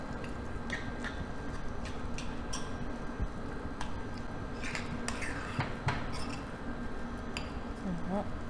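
Food being stirred in a pan with a utensil after seasoning with salt and pepper, giving soft scraping and scattered clinks of metal against the pan, fairly faint and intermittent over a low background murmur.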